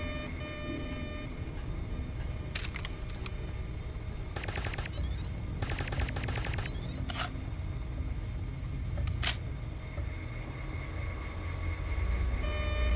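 Suppressed weapons fire in Deus Ex: Revision, with scattered bursts of sharp, clattering shots breaking through a constant background hum. Several separate volleys spread across the stretch, some quick and rattling, one a single sharp crack near the end.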